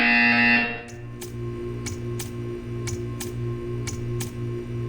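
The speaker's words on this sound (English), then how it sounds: "You will hear a buzzer." In the video game Portal 2, a sustained electronic buzzer tone cuts off, then a steady series of short, evenly spaced clicks or ticks follows over a low hum.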